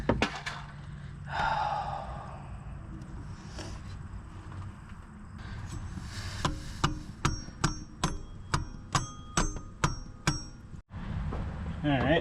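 Light metallic taps on a power steering part of a 2008 Honda Ridgeline, about a dozen sharp evenly spaced strikes in a steady rhythm, preceded by quiet shuffling and a brief voice.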